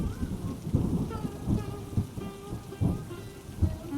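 Heavy cartoon rain pours steadily while repeated low rumbles of thunder roll through every second or so, loud and close with no voices.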